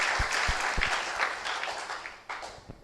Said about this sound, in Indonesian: Kalau kita mau tepuk tangan, mari kita tepuk tangan pada Tuhan Yesus.